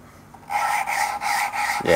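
Fine lapping paste working an engine valve against its seat on a BMW N54, a steady close rubbing rasp that starts after a brief quiet moment and runs in short repeated strokes.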